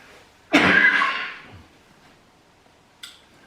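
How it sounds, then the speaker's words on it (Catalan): A single loud, harsh cough bursts out close by and tails off over about a second, followed by quiet and a faint brief sound near the end. "Saben que per tossir és així?"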